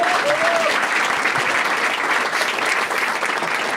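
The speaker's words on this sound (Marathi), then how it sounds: "चला याच्यासाठी टाळ्या वाजवा एकदा" A stand-up comedy crowd breaks into applause, a full, even burst of clapping from many people that stays loud and dense throughout, with a brief voice faintly audible near the start.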